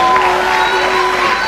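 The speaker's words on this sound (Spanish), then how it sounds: "Aplauso para Jorge" Dense, steady applause from a crowd at a church graduation celebration, a continuous wash of clapping that holds at an even level throughout.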